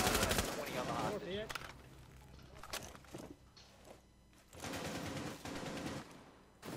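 Video game gunfire rattles in repeated automatic bursts with scattered single shots, loud and dense through most of the stretch, with voices chatting faintly underneath.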